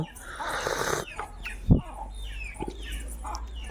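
Chickens cluck and murmur nearby in short, irregular bursts, with one louder low thump partway through.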